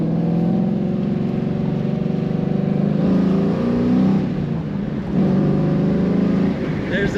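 A 2002 Chevrolet Camaro SS 35th Edition convertible V8 engine roars loudly and close as it accelerates, its deep exhaust note rising and dipping through gear changes.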